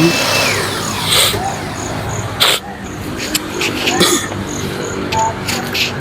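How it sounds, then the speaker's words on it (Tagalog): A power blower clears sanding dust off stone stairs, its loud airy whine running continuously with bursts and scuffing sounds close by. "ginamitan po ulit natin ng blower nga po. Yan, para matanggal po ulit yung pinaglihaan natin"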